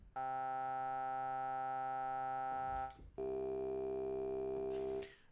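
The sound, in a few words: single synthesizer oscillator tone in SynthMaster 3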